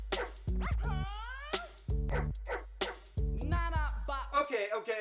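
Dog barks and yips used as a sound effect in a 1990 rap track, a series of loud, close, pitched barks in uneven bursts, some whimpering, with no music underneath between them.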